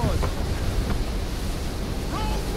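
Ocean surf in Assassin's Creed III rolls on as a loud, steady wash of breaking waves and wind around a small boat, continuous and close with no pauses.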